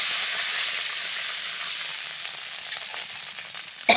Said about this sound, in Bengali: আমার ঝোলটা সুন্দরভাবে ফুটে গেছে